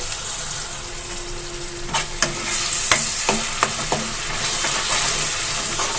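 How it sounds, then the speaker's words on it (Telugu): Masala with tomato gravy fries in hot oil for a dried prawn and cucumber curry, a loud continuous sizzle with a spoon scraping and clinking against the pan in several quick strokes, no voices. "ఇప్పుడు ఇందులో టమాటా గ్రేవీ కూడా యాడ్ చేసుకొని మనకి పచ్చివాసన పోయేంత వరకు మనము వేయించుకోవాలండి"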